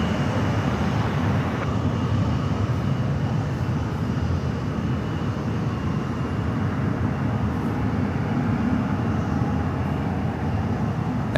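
An airplane on the runway at SFO airport gives off a loud, steady, broadband engine roar that holds constant for the whole stretch, with no talking.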